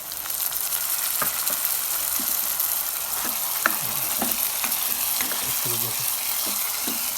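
Steady sizzling of chana dal lentils frying in a pan, with occasional stirring scrapes over a continuous hiss.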